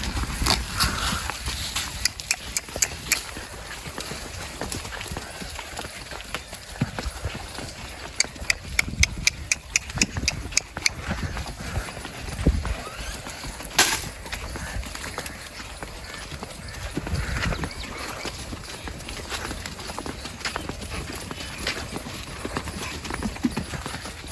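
Steady clip-clop of buffaloes' hooves walking along for the whole stretch, moderately close, with a low engine-like rumble and scattered background noise.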